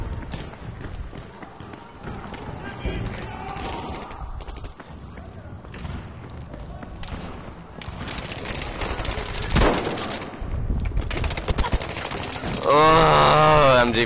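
MG42 machine-gun fire in a Battlefield video-game match: dense, rattling bursts mixed with footsteps and other battlefield noise, building to a loud, sustained stretch near the end.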